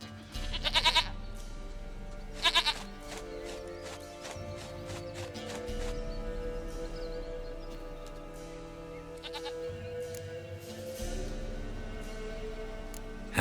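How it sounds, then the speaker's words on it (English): Goat in the video game The Witcher 3 bleating in two short, loud bursts early on, with hoof clopping and a low game ambience continuing underneath. "Goat of mine, dearest,"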